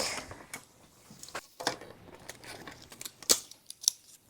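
Hand-cranked die-cutting machine rolling through a stamped figure in a home craft setting, a string of small clicks and ticks with a few sharper snaps, quiet and close.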